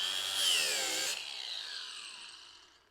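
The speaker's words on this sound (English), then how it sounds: "So first step, let's grind it down a little bit." A power tool grinds down a screw hole in wood before it is filled with Bondo, giving a loud, continuous high whine that peaks early and then fades as the tool winds down.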